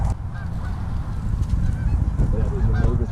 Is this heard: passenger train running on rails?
no